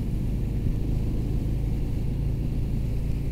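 A Harley-Davidson Fat Bob 114 motorcycle cruises in third gear, its engine a steady low rumble mixed with wind roar, loud and continuous from the rider's position.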